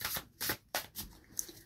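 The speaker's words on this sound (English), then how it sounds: "So we're going to shuffle some more cards" Tarot cards shuffled by hand in a few quick riffling bursts, close and fairly clear, with no talking.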